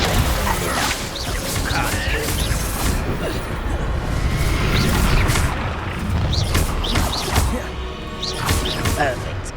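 Repeated spell blasts from the Confringo blasting spell in the Hogwarts Legacy video game crack and boom through busy combat, layered with game music and a voice shouting over the clashes.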